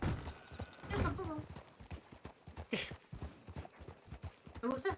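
Horse hooves trot in a steady clip-clop rhythm in the Red Dead Redemption RP video game, near and fairly loud, with brief voice-like or whinny sounds mixed in.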